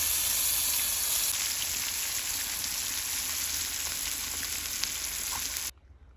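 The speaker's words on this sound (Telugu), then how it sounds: "ఇదిగో మరి రెండో ఫ్రైయా చేస్తున్నాను." Sankara fish fries in a pan in a village kitchen, giving a steady, close hiss of hot oil that runs without a break, then cuts off abruptly near the end.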